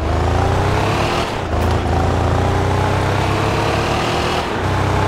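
Heavy muscle car engine in the Car Parking driving game, a deep, loud, truck-like rumble that holds steady with rising revs and a brief dip mid-way, alone without talk.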